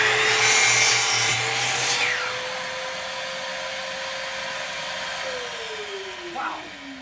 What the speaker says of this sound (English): this is the first time we're using the new miter saw station